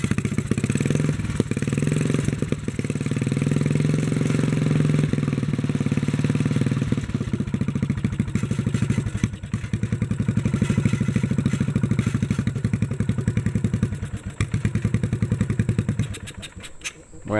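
A 1957 Bolens tractor engine runs with a loud, steady mid-pitched chug, the throttle easing down partway through before the engine rattles and sputters toward the end.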